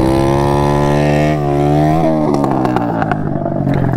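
A KTM motorcycle revs hard as the clutch is let out for a wheelie, a loud, close, steady engine drone that climbs in pitch partway through and takes on a rougher, clattering edge near the end.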